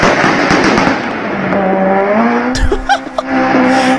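A Honda VTEC engine screams up through the revs with a rising harmonic whine, then bounces hard off the rev limiter in a burst of sharp, stuttering pops and crackles, loud and close.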